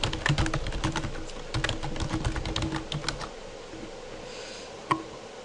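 Fast, steady clatter of keys on a computer keyboard while logging into an account, close and fairly loud for about three seconds, then fading to quiet room tone with a single click near the end.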